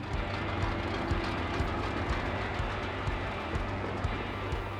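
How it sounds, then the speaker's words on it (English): Trains rumble at a locomotive depot in Hami, China: a continuous low mechanical roar with faint irregular clanks, steady and fairly close, with no voices. "I'm here in Hami Locomotives Depot."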